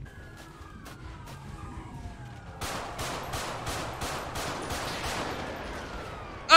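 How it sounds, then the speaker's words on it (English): Rapid bursts of police gunfire in GTA roleplay, a dense volley of sharp cracks starting midway and continuing steadily, with an earlier sweeping siren tone and scattered single shots before it. "Oh, I'm getting shot at by cops now."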